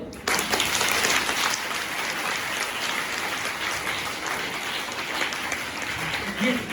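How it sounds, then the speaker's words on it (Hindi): A seated audience at a health and nutrition academy talk breaks into loud, continuous applause, a thick wash of many hands clapping at once that holds steady for several seconds. "अब ताली बजा के बता दो।"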